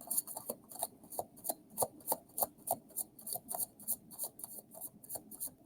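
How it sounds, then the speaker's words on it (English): A deck of tarot cards is shuffled loosely and a little messily, with close, crisp rhythmic scraping and riffling strokes repeating at an even pace and no talk. "A bit of a messy shuffler."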